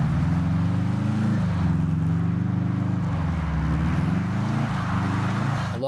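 A 2004 Subaru STI doing skids gives a loud, close engine drone that rises and dips with throttle changes, tyres scrubbing under the steady roar.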